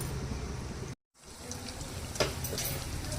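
Homemade paneer cubes frying in a pan give a steady close sizzle, broken by a brief near-silent gap, then crackling resumes with a few sharper spits.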